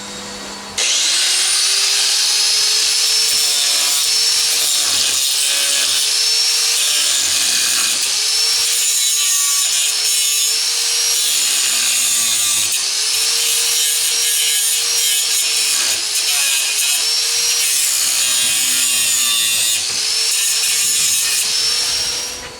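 A WARRIOR 5 amp, 4-1/2 in. slide-switch angle grinder cuts through screws with a loud, continuous high-pitched whine and grinding screech that dips in pitch under load for about twenty seconds, with no talk.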